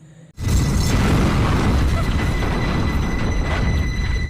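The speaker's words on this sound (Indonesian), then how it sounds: "Dan pada akhirnya bom meledak tepat di depan mukanya Inspektur Huang" A bomb explosion in an action film bursts in abruptly after a brief quiet moment, then becomes a loud, sustained roaring rumble that fills the rest of the clip.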